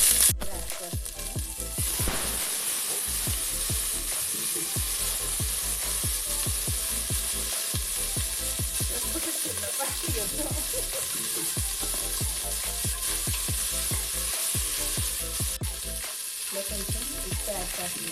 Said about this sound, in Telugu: నెక్స్ట్ అలాగే మిర్చి, తర్వాత అలాగే ఆనియన్ అన్నీ యాడ్ చేస్తున్నాను